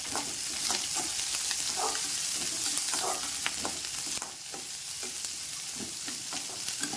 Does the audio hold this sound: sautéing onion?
yes